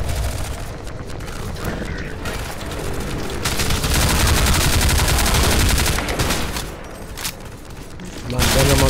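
Soldier gunfire in the video game Half-Life 2, dense rapid bursts of automatic shots rattling almost continuously, loud and close, with heavier booming stretches and brief gaps between volleys.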